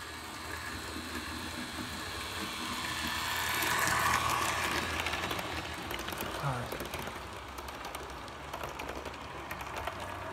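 A revived model locomotive runs continuously for about ten seconds, giving a close, harsh mechanical whirring and rattling with a faint ratchet-like clicking and a brief rise in loudness partway through.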